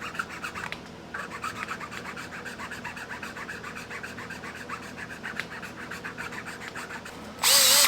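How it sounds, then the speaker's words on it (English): A K24 cylinder head's ports are filed and ground with a file kit, a steady close rasping and grinding that runs for several seconds and ends in a brief louder burst. "Maybe I'll get something a little stronger in this file kit. And just grind away."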